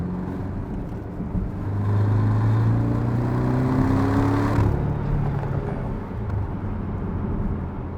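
A Porsche 718 Cayman GTS 2.5 engine hums from inside the cabin on a test drive, rising in pitch as it pulls through a gear and then easing back, steady and moderately quiet without talk.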